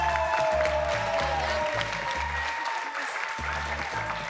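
A television studio audience claps loudly and continuously for a game show, dense steady applause under a rhythmic backing beat.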